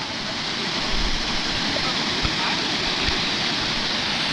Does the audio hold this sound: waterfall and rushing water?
yes